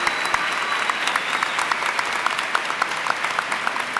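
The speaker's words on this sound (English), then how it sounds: "Give them a round of applause." An audience applauding at a 2006 graduation ceremony, a steady patter of many hands clapping in a large room, moderately loud and sustained with no speech.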